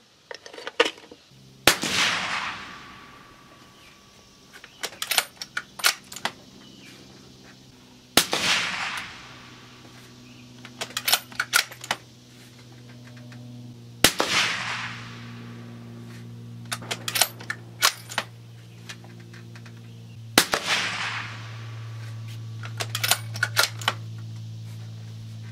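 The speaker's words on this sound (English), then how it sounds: "But all in all, it's a very quiet shooting suppressor." Suppressed rifle shots through a Liberty Infinity X or Mystic X suppressor, four strings of sharp cracks spaced several seconds apart, each followed by a ringing tail, with clicking and rattling between strings.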